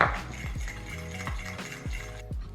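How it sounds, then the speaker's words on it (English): A spoon stirs amaretto glaze in a bowl, giving a steady rhythm of light clinks and scrapes, about six taps in quick succession, close and fairly quiet. "And stir until smooth."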